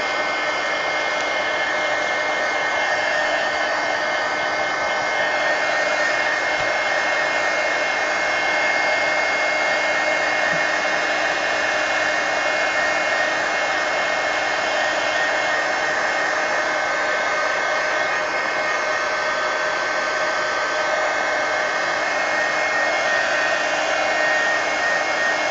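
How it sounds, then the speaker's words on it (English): A heat gun blowing hot air to dry a mixed media napkin journal page, a loud, continuous, even whoosh that holds without a break throughout. "I will hit it with the heat gun"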